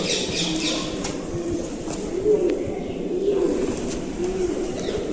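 Several soft, low pigeon coos repeat inside an old, deep stepwell over a constant hollow background hiss, with faint distant squawks; no one speaks.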